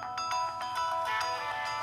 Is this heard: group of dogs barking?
no